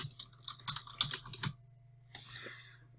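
Fingers type on a computer keyboard in a quick flurry of close, crisp key clicks, followed by a softer brush of movement.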